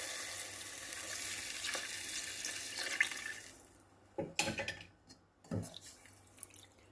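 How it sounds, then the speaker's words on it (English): Four cups of water poured into a hot pot for mushroom biryani, starting with a loud steady sizzle that fades, followed by several distinct splashes and pours near the microphone. "So here I am going to add 4 cups of water"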